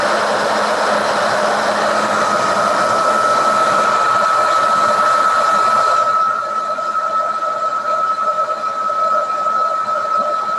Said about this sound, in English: So I'm going to get out my hair dryer.